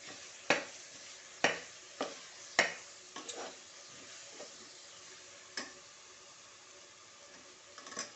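Chili powder being stirred into mushroom biryani masala in a pan, heard as a series of sharp spoon taps and scrapes against the metal over a quiet, steady sizzle, with about five distinct clacks spaced unevenly and no speech.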